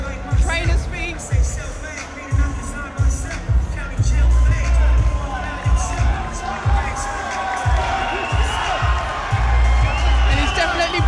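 Lively boxing crowd at a fight night cheering and shouting throughout, a dense roar with rhythmic thumping stamps or claps pulsing underneath, loud and continuous.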